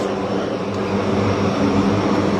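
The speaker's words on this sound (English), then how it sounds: "You can't miss the sound of those propellers." Propeller aircraft engines drone loudly and steadily at an arrival ceremony, a dense, continuous roar with no break.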